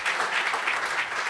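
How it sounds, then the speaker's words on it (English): An audience applauds after a conference keynote, with dense, steady clapping from many hands filling the room throughout the short stretch. "another round of applause"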